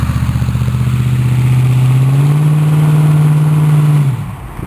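A car engine at a fan belt toss event fires up and revs, a loud steady mid-low drone that rises in pitch, holds for several seconds, then drops off abruptly near the end.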